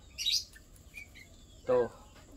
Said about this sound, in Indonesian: ini ada anak burung nih teman-teman kira-kira dirawat jangan ya nih teman-teman